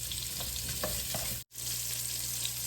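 Sausage fries in a pan with a steady, dense sizzle that runs through the whole stretch. It is close and loud, with a brief dropout near the middle.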